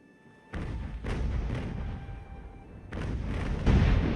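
Naval cannons boom in the age-of-sail battle game Ultimate Admiral Age of Sail, several heavy rumbling shots in two bursts with rolling low thunder between them.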